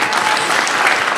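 An audience at a Nikki Haley campaign event bursting into loud, dense applause, a brief burst of many hands clapping close and evenly.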